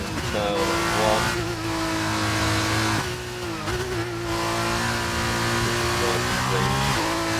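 Formula 2 race car in a racing video game, its engine howling steadily at high revs as it sweeps through the final corner in Japan, loud and continuous with brief gear-shift dips.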